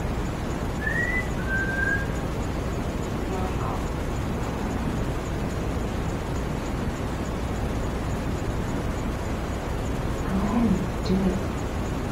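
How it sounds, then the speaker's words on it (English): A person whistles two short, quiet, rising notes inside a house's back hallway, with a low hum of room noise beneath and faint murmuring later on. "If I whistle, can you whistle back?"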